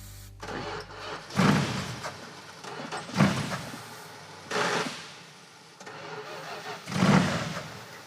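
A Pro Street drag car engine, primed with starting fluid, cranks and fires in four separate loud bursts, each catching briefly and dying away before the next try.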